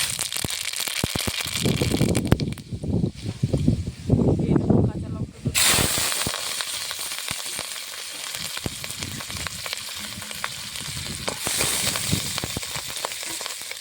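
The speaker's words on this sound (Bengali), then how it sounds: "টকের তরকারির জন্য কড়াইতে সর্ষের তেল দিয়ে দিয়েছি ফোড়নে দেবো সর্ষে" Mustard seeds sizzle and crackle in hot mustard oil in a wok, a dense close hiss with sharp pops; a voice talks over the early part before the frying carries on alone.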